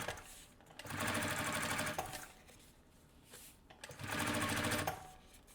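A sewing machine stitches a lining strap in two bursts of rapid, rhythmic mechanical clatter, each about a second long, separated by a brief quiet pause with light handling noise.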